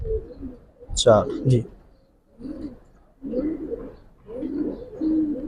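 Bagha and silver pigeons in a loft collection coo in repeated low throaty bursts, close by, while someone speaks briefly over the first calls.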